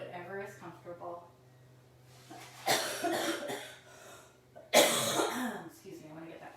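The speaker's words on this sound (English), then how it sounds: "I want to get that out before, so that I don't cough during your relaxation" A yoga instructor coughs during a class, with two hard bursts of coughing and throat clearing between quieter stretches of speech and breathing, close and fairly loud.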